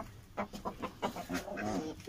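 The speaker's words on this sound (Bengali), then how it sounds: "মোরগ" Chickens and a rooster cluck in short, rhythmic bursts close by at a rooftop garden, several quick clucks in a row, ending with a brief louder call.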